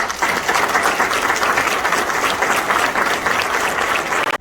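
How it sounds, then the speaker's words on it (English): Families at a Hialeah Police Department swearing-in ceremony give a loud, sustained round of applause, dense clapping from a crowd running steadily for several seconds before cutting off abruptly. "let's thank and give a round of applause to all the families that are here supporting your endeavors"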